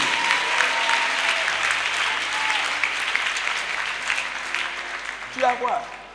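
A Pentecostal church congregation in Abobo, Abidjan claps for Jesus: sustained crowd applause filling the room for several seconds, with a preacher's voice and a few calls heard over it.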